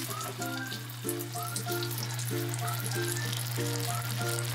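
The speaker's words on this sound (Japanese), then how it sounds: "6個並べて強火でかけてます" Six gyoza sizzle steadily in an oversized frying pan over high heat, a constant close crackle with a low hum beneath, while faint clinks and tonal chimes recur in a regular pattern.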